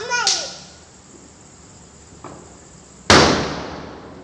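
Firecrackers bursting during Diwali celebrations: a sharp close pop near the start and a louder crack about three seconds later, with a faint pop between, as children chatter nearby.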